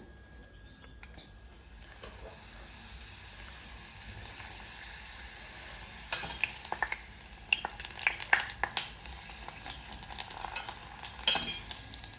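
Papad frying in a small amount of oil in a home kitchen: a low sizzle that grows busier after six seconds, with crackling bursts and stirring scrapes and faint bird chirps in the background, no talking.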